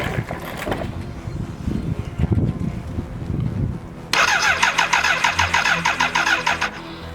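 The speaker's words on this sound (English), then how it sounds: "Keep an eye on the oil level as the engine spins over." A 1986 BMW K100 motorcycle engine with rewired M-Unit fuel injection cranks over on the starter, first as a low, uneven churning and then as a louder, steady rhythmic whirring that holds for several seconds before easing off.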